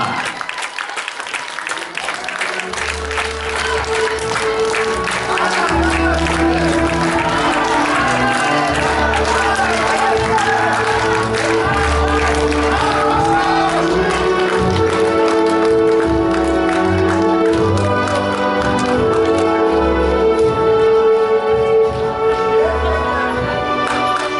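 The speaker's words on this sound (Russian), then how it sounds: "Ваши овации, дамы и господа!" Audience applause and cheering fill a Tuvan dance festival hall, a loud, sustained wash of clapping with tonal music running underneath throughout.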